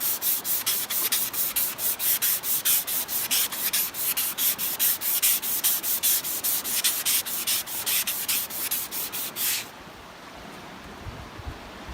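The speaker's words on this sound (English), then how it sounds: "I've got some 320 grit emery cloth. I'm just going to polish it up" 320 grit emery cloth is rubbed back and forth over a waterwheel's metal shaft, a rapid steady scratchy rasp in even strokes, loud and close, stopping abruptly near the end to leave quiet room noise.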